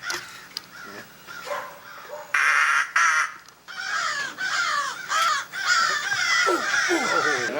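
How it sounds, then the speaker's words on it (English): Crow cawing outdoors near the Indianapolis Art Center, a run of loud harsh caws in irregular bursts, some overlapping, close and clear with no speech. "There's a crow up there already."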